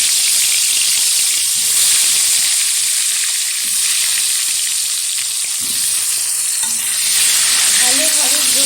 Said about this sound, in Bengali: তেলটা গরম হয়ে গেছে, তেলের মধ্যে দিয়ে দিচ্ছি এই যে আলু